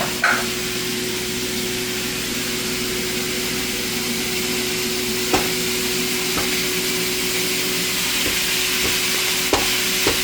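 Hamburger meat cooking in a pan gives a steady, even sizzle with a few faint clinks now and then, close and continuous, with no voices.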